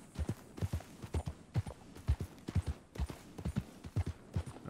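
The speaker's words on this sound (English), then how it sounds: "Let's go get that horse back there, I guess." Horse hooves clip-clop in a steady, even gait in Red Dead Redemption 2, close and clear with no talk over them.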